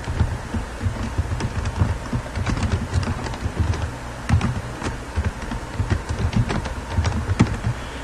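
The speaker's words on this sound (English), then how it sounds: "just type in our email" An email being typed on a computer keyboard, with steady close key clicks over a low room hum and no speech.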